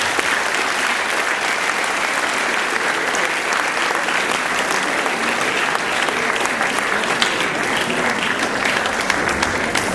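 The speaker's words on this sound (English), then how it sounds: "I'd like to give a round of applause to our officers" Loud, steady applause from a large crowd at a school opening-day assembly, continuous clapping without a break throughout.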